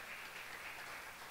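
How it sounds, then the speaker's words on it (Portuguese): Faint, distant applause from a church congregation at a service, a steady soft patter of many hands that holds evenly throughout. "palmas para Jesus"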